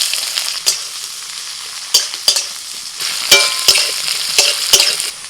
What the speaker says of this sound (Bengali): পেঁয়াজটা অর্ধেক ভাজা হয়ে গেছে।